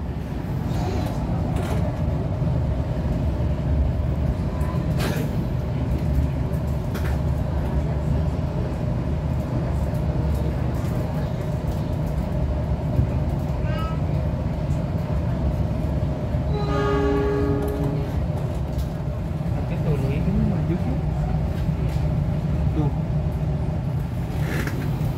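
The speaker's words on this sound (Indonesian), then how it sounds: "berhenti bersilang menunggu kereta api Argo Wilis lewat di stasiun Indihiyang" An Argo Wilis passenger train rolls past a Pangandaran train stopped at Indihiyang station in Indonesia, with a steady low rumble of wheels and engine throughout and a brief horn sounding near the middle.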